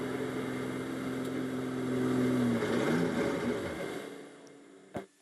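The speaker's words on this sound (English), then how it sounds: "The revs of the engine aren't matching the motion of the forward propulsion" A GT racing car engine at the 24 Hours of Spa drones loudly with drivetrain trouble, revs not matching its motion, pitch wavering and dropping unevenly as it slows, then fades out with a brief thump at the end.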